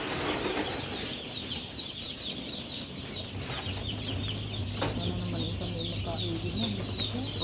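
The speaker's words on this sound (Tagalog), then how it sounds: "ito naman po ang aming 500 na sisiw" A flock of chicks and chickens clucking and peeping steadily, close and continuous, with a low steady hum in the background and voices talking underneath.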